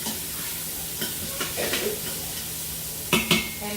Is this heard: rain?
no